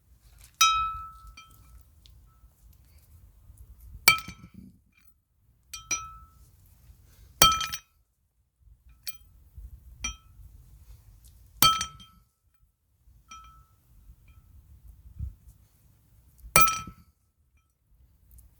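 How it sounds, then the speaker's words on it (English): Pieces break off a metal socket during work on a 1977 Trans Am, heard as sharp, isolated metallic clinks and cracks spaced a few seconds apart, with quiet between them. "I'm breaking off pieces of the socket"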